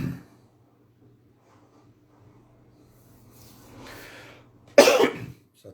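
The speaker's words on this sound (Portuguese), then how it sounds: "Essa tosse que não me larga." A person coughs a few times, a soft throaty cough partway through and then a sharp, loud burst near the end, close and alone in a quiet room with a low steady hum underneath.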